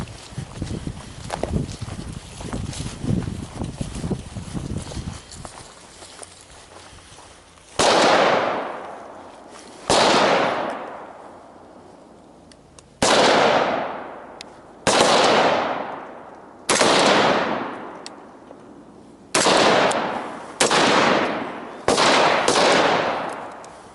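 Gunshots from a marksman course drill, fired from a speed knee at the 50 with two rounds to the chest. Eight loud single cracks ring out at uneven gaps, each one followed by a short fading echo. Quieter rustling comes before them.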